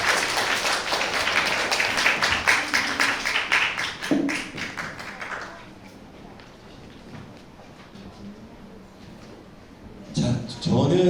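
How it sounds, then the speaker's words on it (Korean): Welcoming applause from a forum audience as speakers take the stage, dense rapid clapping for about five seconds that fades out, followed by quiet room tone and a brief burst of noise near the end. "여러분 다시 환영의 박수 부탁드립니다"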